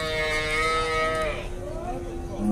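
Cattle at a livestock market give a loud, drawn-out moo that falls off after about a second, followed by a lower second call, over a busy background of market noise.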